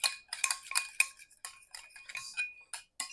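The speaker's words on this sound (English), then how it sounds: "So I'm just gonna take like a tablespoon, well no, take like a teaspoon, put it in there, and whisk this." Egg yolks whisked for eggnog, heard as quick, light metallic ticks of a whisk against a bowl in uneven bursts, close and clear with brief pauses between strokes.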